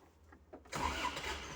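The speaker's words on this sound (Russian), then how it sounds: "Сейчас запустим двигатель и проверим его в движении." An ISEKI TK46 wheeled-tracked tractor with a cab starts up nearby after a few faint cranking sounds. The engine catches abruptly and settles into a loud, steady running rumble.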